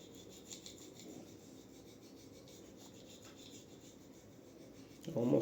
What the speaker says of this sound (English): There's the honing, which is what I'm doing, just back and forth, flipping it back